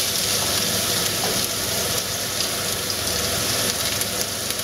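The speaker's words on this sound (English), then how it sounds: "Okay, we'll add the onions now." Onions fry in oil left from browning beef in a pan, giving a dense, continuous crackling sizzle at steady loudness with no voices.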